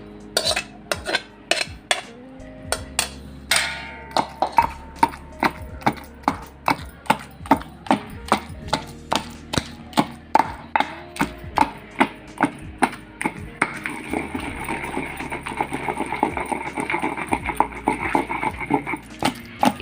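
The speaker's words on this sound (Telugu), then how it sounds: "ఇందులో ఇప్పుడు గోంగూర వేసుకొని దంచుకుందాం" Gongura leaves and boiled tomatoes pounded in a mortar, a steady run of sharp, close thuds at an even rhythm that picks up a brighter, more rattling edge toward the end, with no talk over it.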